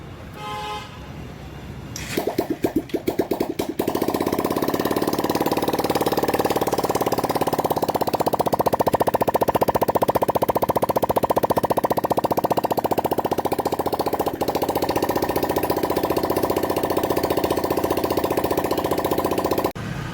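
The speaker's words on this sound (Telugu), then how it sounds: "ఇప్పుడు మనం బైక్ అనేది ఒకసారి స్టార్ట్ చేసి చూసేద్దాం." A Bajaj Pulsar BS6 motorcycle, freshly rebuilt with a new bore, piston and head, cranks with a few sputtering bursts, then catches and runs steadily at a loud, close idle with a rough mid-range drone for the rest of the clip.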